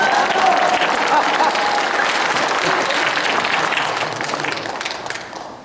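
A lecture audience applauding in a hall: dense sustained clapping from a large crowd, loud at first and gradually fading toward the end.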